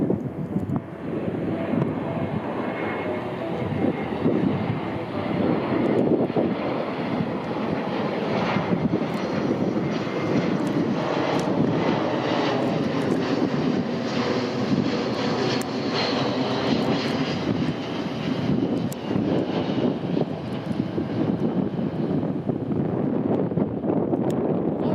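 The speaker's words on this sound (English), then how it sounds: "the C-17 is now going to perform for us a full 360-degree turn" A Boeing C-17 jet transport roars overhead while flying a full 360-degree turn at the Bremerton Airshow, its broad engine noise sustained and loud throughout, with wind buffeting the microphone.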